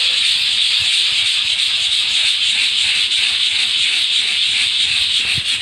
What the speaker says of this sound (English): while I scrub this a little bit more